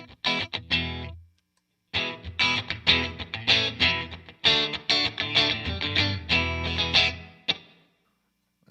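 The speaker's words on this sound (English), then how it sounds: "And first one is just a basic reverb." Electric guitar played through a basic reverb preset on a Source Audio Ventris pedal, strummed chords and picked phrases ringing out with a smooth reverb tail, close and full, with a brief pause near the start.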